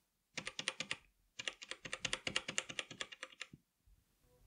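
Typing bursts on a Logitech G513 mechanical keyboard fitted with thick and thin O-rings under the keycaps, two close, crisp runs of rapid muted keystrokes separated by a short pause, with a few soft taps at the end.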